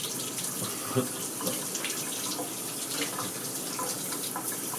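Shower water runs in a steady, close, hissing stream with small splashes, continuous throughout.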